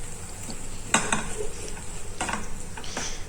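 A spoon stirs salted rice in a cooking pot, giving a few scraping, clinking strokes against the metal over a soft background hiss, with no talking.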